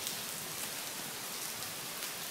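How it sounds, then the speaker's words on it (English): Rain pours down outdoors in an even, unbroken hiss, close and moderately loud, steady throughout with no voices or other sounds. "This weather, why does it gotta rain?"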